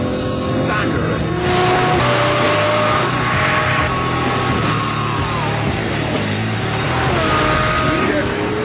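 A Lamborghini Murcielago LP 640 with a 6.5-litre, 640-horsepower V12 roars loudly and continuously, its pitch climbing and dropping with rising revs and gear changes.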